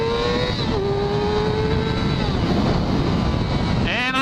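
A 2006 Yamaha YZF R6 sport motorcycle accelerates hard with rising engine whine as the throttle is twisted, buffeted by heavy wind noise, with a sharp rev climb at the end.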